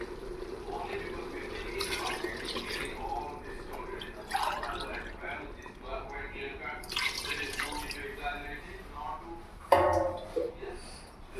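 Water is poured into a pot of chicken biryani in a home kitchen, a low running splash heard steadily under continuous talking, with a few brief clinks.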